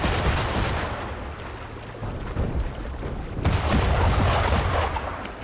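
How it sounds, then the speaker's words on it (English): Black powder going off in a ship's hold in Assassin's Creed III, a rolling series of heavy booms and crackling blasts with a loud surge partway through, with no talk. "Light the black powder in the ship's hold."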